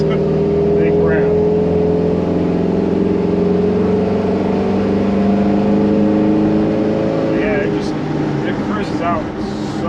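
A patina 1969 Chevrolet C10 pickup with an LS 5.3-liter V8 on a test drive, its engine droning steadily and loudly from inside the cab, with a few faint voice-like sounds near the end.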